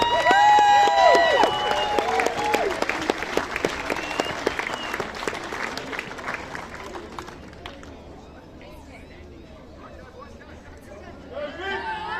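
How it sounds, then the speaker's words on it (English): A crowd at an under-12 football nationals closing ceremony in Melbourne applauds the boys' champions, loud dense clapping with some cheering that thins out midway, then fades toward quiet murmuring before picking up again briefly. "Have a big round of applause for our boys' champions,"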